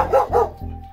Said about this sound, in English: And the dogs, of course.